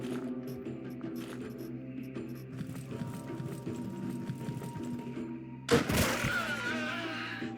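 Enemy gunfire breaks out in the video game Quasimorph, a dense run of quick low shots followed by one loud sudden burst near the end, set against a steady droning game background.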